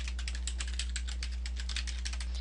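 Rapid, steady typing on a computer keyboard to fill in settings fields, a continuous run of crisp keystrokes over a constant low hum.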